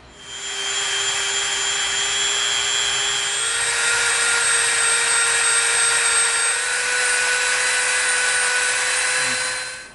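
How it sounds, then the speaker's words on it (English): A Dremel rotary tool shapes and rounds the top of an EVA foam helmet, its high steady whine running close and loud for the whole stretch, with slight pitch shifts as it cuts; no voices. "we're going to bring our Dremel in, and we are going to round the top of this off"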